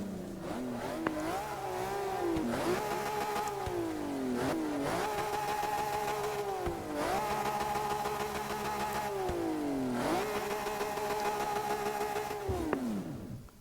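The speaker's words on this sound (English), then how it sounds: "It just sounds like a normal modern V12." A modern V12 race car engine in a racing video game fires up and revs repeatedly, rising pitch sweeps falling away between blips, smooth and loud with no talk.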